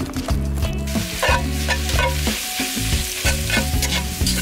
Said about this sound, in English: I want to brown the beef first, it just adds so much more flavor.